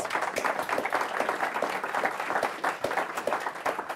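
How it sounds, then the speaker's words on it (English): A room of people applauds panelists at the close of a bioeconomy strategy panel discussion: a steady, dense patter of many hands clapping, evenly sustained for a few seconds at moderate loudness. "How about a round of applause for our excellent panelists?"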